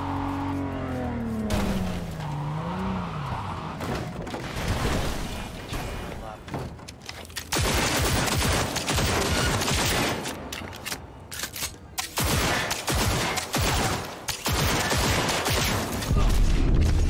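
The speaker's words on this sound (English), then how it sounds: "Who's shooting me?" Bursts of gunfire in the video game Cyberpunk 2077, repeated loud rattling volleys and impacts growing denser through the latter half, mixed with game sounds and a voice talking early on.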